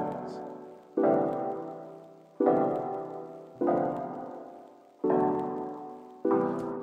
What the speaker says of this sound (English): I'm using the Space Dust patch, and that sounds like this.